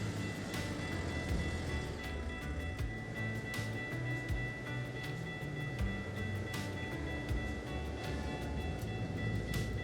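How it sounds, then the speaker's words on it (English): A freight train passing a stopped truck in American Truck Simulator, the game's rail rumble rolling steadily along with repeated sharp clicks and clacks from the wheels over rail joints, heard alone without any voices. "There's a train coming, so let's just pull up here and let's watch it come by."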